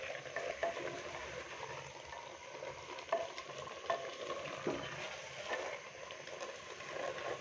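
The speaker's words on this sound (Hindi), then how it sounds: "शलजम डालने के बाद अभी हम इसको अच्छे से मिक्स करेंगे।" Turnips, potatoes and peas stirred in a frying pan, a steady sizzle with scraping spoon strokes at a moderate, close level and no talk.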